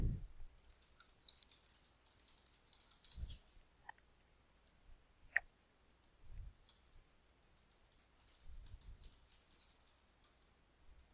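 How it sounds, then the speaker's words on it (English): Computer mouse clicks while settings are saved in a web app: a few faint, sharp, scattered clicks over quiet room tone, with no talking. "So once we click save on here, we'll be all good to go."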